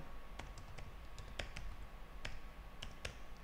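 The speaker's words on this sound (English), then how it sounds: "I'm just going to type action underscore" Keyboard keys tapped at a computer while code is entered, quiet irregular clicks in short bursts and single strokes over a low steady background hum, no voice.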